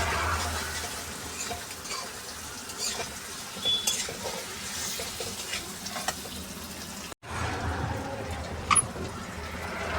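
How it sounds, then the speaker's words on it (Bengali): Vegetables being stirred in a cooking pot with spices, giving a continuous scraping, sizzling clatter up close, with a brief break partway through before the stirring resumes. "এবার লেড়ে দিচ্ছি"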